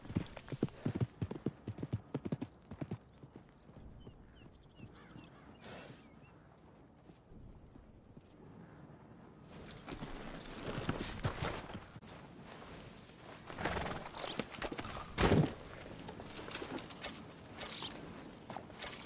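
Horse hooves clip-clop in Red Dead Redemption 2, with creaking tack and mechanical rattles; brisk hoofbeats early, then a busier, louder stretch with a brief whinny-like burst near the end.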